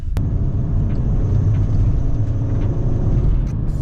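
A tuned Mk6 VW GTI pulling in 4th gear at light throttle, a steady low engine rumble heard close from inside the car.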